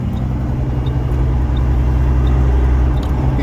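A Western Star truck rolls along with a loud, steady, close engine drone and low rumble that holds even throughout, no clear gear-change break standing out and no one talking.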